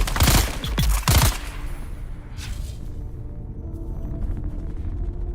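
Gunfire in Dune Awakening opens with a few sharp, loud bursts of shots in the first second, then fades into a low rumbling ambience with scattered faint crackles.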